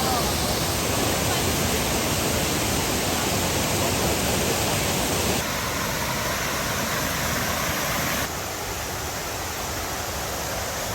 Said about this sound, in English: This waterfall is the best waterfall, like one of the best waterfall I ever seen.